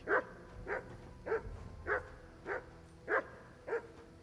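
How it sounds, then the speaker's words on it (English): Dogs barking in the video game Kingdom Come: Deliverance 2, seven evenly spaced single barks roughly every half second, moderately distant and alone over a low ambient background. "Azok a kutyák."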